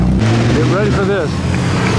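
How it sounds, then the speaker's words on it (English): A vintage Ferrari racing car at the 2017 Mille Miglia road event roars past close by, its engine note rising and falling in pitch, with crowd and street noise around it. "After that rousing Ferrari"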